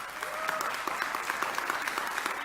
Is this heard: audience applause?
yes